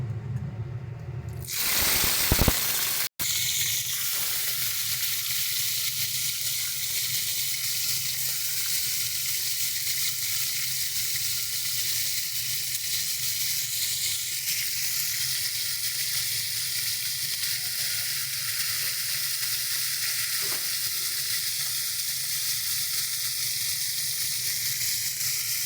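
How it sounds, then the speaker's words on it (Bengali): Bhola fish paturi wrapped in bottle gourd leaves goes into hot oil with a sharp burst of sizzling. The frying then settles into a loud, steady crackle that holds for over twenty seconds, with no voices. "এবার আমরা পাতুরিগুলোকে এর মধ্যে দিয়ে দিচ্ছি।"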